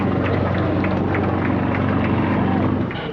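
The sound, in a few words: Sukhoi Su-31 single-seat aerobatic propeller plane flying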